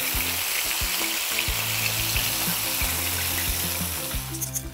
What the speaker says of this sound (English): we're frying up the veal